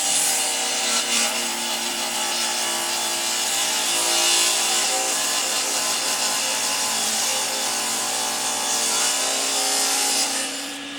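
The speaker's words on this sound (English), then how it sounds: "take it to the arm saw and cut these corners and cut the ends" A radial arm saw squares the corners and ends of a wooden cutting board, giving a loud, sustained whining rasp through the wood with no talking.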